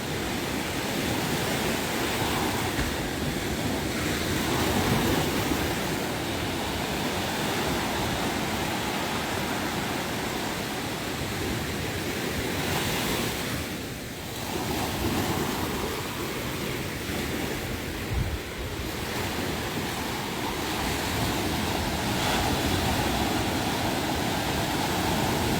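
Steady roar of ocean surf breaking along Crystal Cove Beach, a continuous loud wash with slow swells and brief dips, heard alone without voices.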